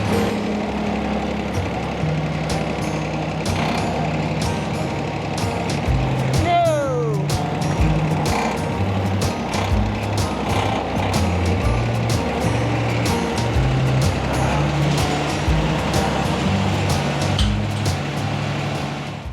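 Tractor driving up and down a gravel aggregate ramp, a steady loud diesel engine drone with rumbling low tones and shifting revs throughout, close by, with no talk over it.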